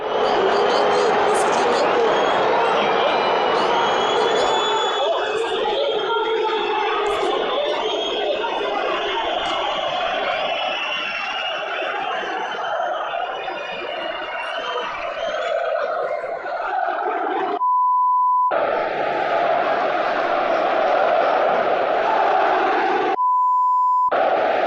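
Corinthians football fans protesting after a defeat, with a loud, dense roar of booing and shouting that fills the whole stretch, cut twice by short tone beeps near the end.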